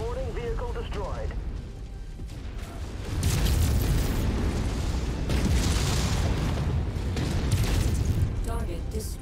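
In the MechWarrior 5: Mercenaries game, a mech's reactor blows up and destroys the vehicle, a loud sustained rumbling roar of explosions with bursts of gunfire, and game voices speaking over the top.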